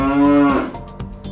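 A farm cow gives one long, loud moo that starts deep and steady, then drifts and breaks into a rougher, fading tail, with nothing else over it.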